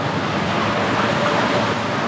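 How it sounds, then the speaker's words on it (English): Water from a waterfall rushes through an underground channel, a dense, steady roar close by with no talk. "that water that was disappearing up at the waterfall"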